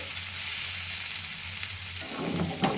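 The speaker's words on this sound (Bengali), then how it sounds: "এটা কিন্তু কোনো জল পড়বে না, কিছু না, তেলে ভাজা ভাজা হবে।" Potato and onion frying in oil for a spicy stir-fried dish, making a continuous close sizzle. The texture shifts and grows more active near the end as the pan is stirred.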